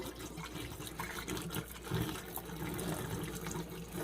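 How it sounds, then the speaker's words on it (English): Hot water draining slowly from a clogged kitchen sink, a faint continuous gurgling and trickling with small splashes, close by and without voices. "I'll let it drain and then I'll pour some more hot water in it."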